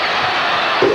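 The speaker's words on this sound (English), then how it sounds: "the crowd on the baseline is turning up the fire" A basketball crowd roars and cheers steadily along the baseline at a college game, a dense loud wall of voices that swells slightly near the end.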